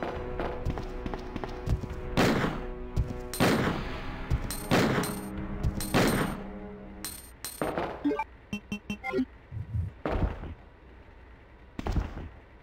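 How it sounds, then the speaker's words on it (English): Heavy handgun blasts aimed at Mr. X in Resident Evil 2, several sharp separate booms spread over the stretch, mixed with thuds and a quick cluster of clicks, fairly close and loud. "Three magnum shots!"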